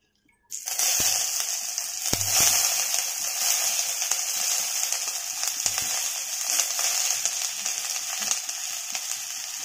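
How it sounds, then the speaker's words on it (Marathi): Onion hits hot oil in a pan and sizzles loudly straight away, a dense, steady crackle with occasional clicks from the utensil. "आता आपण कांदा घालून घेऊयात।"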